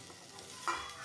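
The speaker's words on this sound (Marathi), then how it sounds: "आता आपण कांदा टाकून घेऊया" Chopped onion dropped into a hot pan with garlic for a spicy prawn and potato curry, sizzling steadily while a spoon stirs it, with a brief louder scrape near the end.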